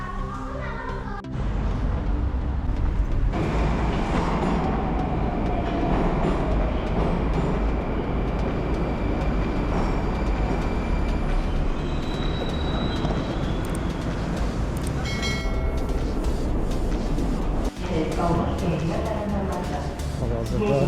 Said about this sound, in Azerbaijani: Hal-hazırda dəmir yol vağzalındayıq.